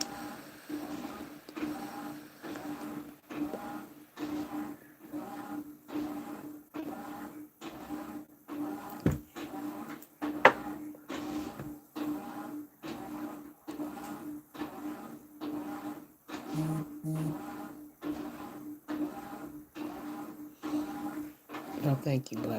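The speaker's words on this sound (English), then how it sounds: "Y'all probably hear my washing machine in the background." A washing machine runs in a room, its steady, regular mechanical thumps and whirs repeating about once a second, low in the background under a person talking.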